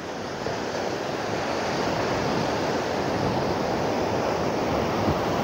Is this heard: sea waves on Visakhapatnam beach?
yes